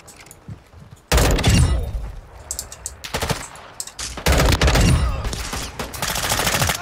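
Heavy automatic gunfire in the Call of Duty: Modern Warfare II DMZ video game, loud close bursts of rapid shots starting abruptly and returning in several sustained volleys with short gaps between.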